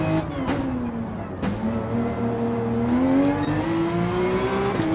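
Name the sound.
race car engine driving in Gran Turismo video game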